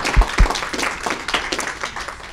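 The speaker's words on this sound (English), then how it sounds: "Let's give our panelists a round of applause." Audience applause for a panel at the close of a discussion on Pennsylvania's organic agriculture industry, steady dense clapping across the whole stretch with a couple of sharper low thumps near the start.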